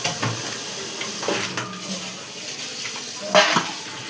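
Ginger, garlic and cumin fry softly in a pan, a low sizzle broken by scraping stirs and a few clinks of a spoon against the metal.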